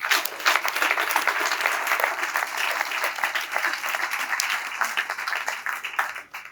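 Congregation applauding inside a church during a Nativity service, steady dense clapping that sustains at a constant loudness for several seconds before tapering off at the end.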